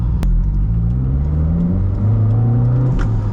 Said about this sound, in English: So all the rattling and all the squealing noises that this car makes, don't worry.